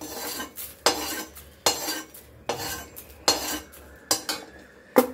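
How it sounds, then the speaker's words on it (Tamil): Roasted salt scooped from a pan for drumstick-leaf idli powder, a series of about six sharp metallic scrapes and clinks of a spoon on the pan at a regular pace, close and clear with no voices. "உப்பு வறுபட்டுச்சு, எடுத்துக்கலாம்."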